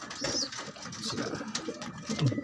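Blue bar pigeons coo softly in a few short, low calls, fairly close but quiet, with faint background noise and an occasional chirp.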